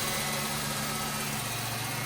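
A New Edge Ford Mustang, freshly swapped to a manual transmission, idles steadily nearby with a low, even engine rumble and faint vibration, no voices over it.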